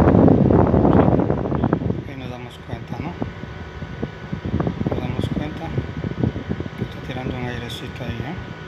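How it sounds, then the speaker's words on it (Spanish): Cooling fan running inside a computer power supply, a steady airy whir with rustling noise, heard close under someone speaking Spanish. "ahí está trabajando el ventilador. Está mandando aire por aquí y está saliendo aire por acá."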